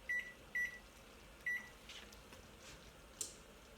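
A kitchen timer is set for butter and sugar boiling on the stove, giving three short, clear electronic beeps close by, followed by faint clicks and a final soft tap in a quiet kitchen.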